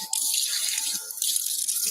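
Water runs from a garden tap fed by a rainwater tank, a bright splashing gush that surges on, dips briefly, then flows again, close by and without speech.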